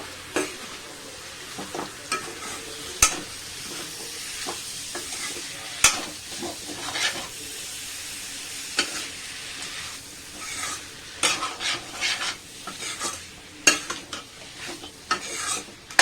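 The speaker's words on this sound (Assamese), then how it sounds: "এয়া মাংসখিনি দি দিলোঁ। ভালদৰে লৰাই দিব।" Duck meat turned over in a hot pan, a constant sizzle broken by repeated scraping strokes of a spatula and sharp knocks against the pan, with busier stirring toward the end.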